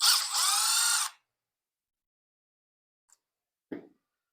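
A power tool zips briefly on a bolt of an RC truck, a close, loud whir lasting about a second, followed by silence and a couple of small clicks as parts are handled.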